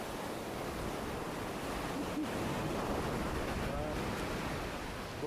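Waves washing in near the shore, a steady close roar of surf with wind noise, continuous throughout with a faint voice at times.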